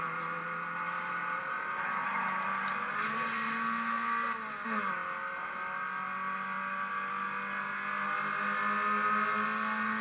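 Car engine screaming at high revs in Need for Speed Underground, a sustained whining drone with a brief pitch dip and gear shift midway, steady and loud throughout.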